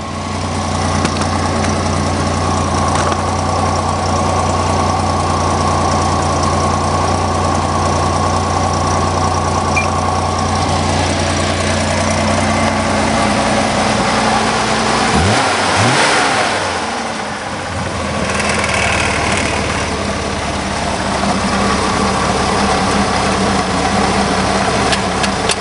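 A car engine with a cold-cranking dead fuel pump runs loud and close, revving up and settling between idle and higher throttle, with a brief dip and surge partway through.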